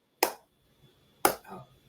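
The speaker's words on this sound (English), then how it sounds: "Sorry, I was awkwardly slow clapping." Two sharp, isolated hand claps land about a second apart, a slow and deliberate clap in an otherwise quiet space.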